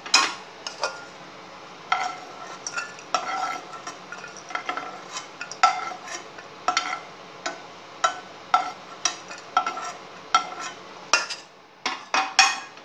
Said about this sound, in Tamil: தேங்காய் சில்லை இப்படி லைட்டாக ஃப்ரை பண்ணி எடுத்துருவோம்